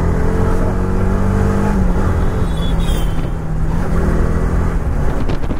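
A 2014 Yamaha R15 v2 motorcycle engine drones loud and steady at high revs while riding, with a continuous close engine roar and rushing wind throughout.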